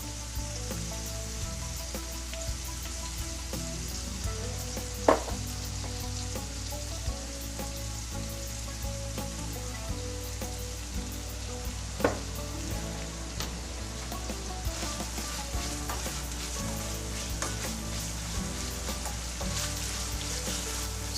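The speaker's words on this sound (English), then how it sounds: "Just gotta mix that all up with my meat. Make sure all that hamburger is nice and brown." Hamburger meat browning in a pan for Pennsylvania-style sloppy joes, a steady close sizzle with scraping stir strokes and a couple of sharp utensil clacks, no voices.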